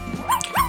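Small puppy giving two short, high whimpering yips, close by and loud, with a faint low hum underneath.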